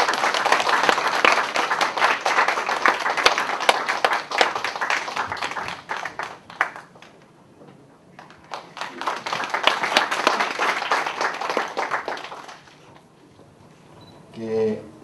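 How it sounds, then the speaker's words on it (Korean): Audience applause at a gathering of Sewol ferry bereaved families, a full round of clapping that dips briefly midway, swells again, then fades as a voice begins speaking at the end. "박수로"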